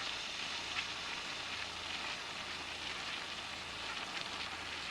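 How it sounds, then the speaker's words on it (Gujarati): Peanuts fry in hot oil for a fasting-day farali thali, giving a steady, even, close sizzling hiss with no pauses and no voices. "આપણે મગફળીને તેલમાં ચડવા દેવાની"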